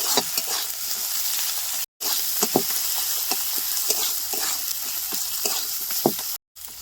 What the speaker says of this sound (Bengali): বেশ ভালো করে কষানো হয়ে গেছে পেঁয়াজ রসুনে